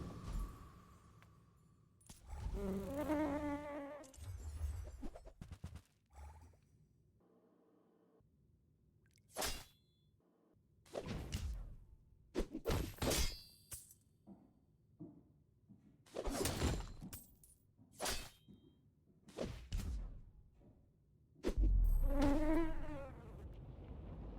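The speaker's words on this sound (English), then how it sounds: "Just fight the mosquito here." A mosquito in the video game The Bazaar buzzes in several whining bursts, mixed with sharp clicks and short game effects over a quiet background.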